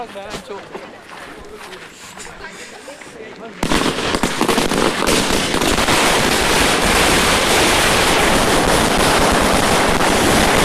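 Firecrackers set off near a temple, first quieter crackling with voices, then a sudden loud, sustained barrage of dense bursts filling the rest of the clip.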